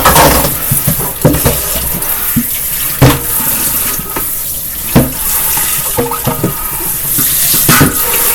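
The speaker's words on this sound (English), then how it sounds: "So what I'll do is I'll rinse all of them out." Tap water running hard into a sink while containers are rinsed under it, a continuous splashing stream broken by louder knocks and sloshes as the containers are moved and emptied, with no talking.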